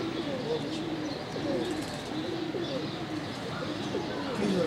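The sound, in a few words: pigeons cooing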